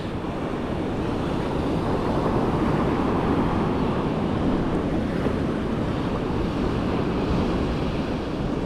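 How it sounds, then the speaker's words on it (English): Ocean surf on New Zealand's remote west coast breaks near a river mouth sandbar as the tide recedes, a loud, steady roar of waves mixed with gusting wind noise and no voices. "Better waves out there now, we've got tide starting to recede, which makes the wave stand up a little bit more."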